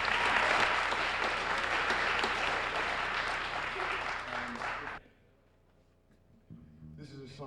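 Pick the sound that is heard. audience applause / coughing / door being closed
audience applause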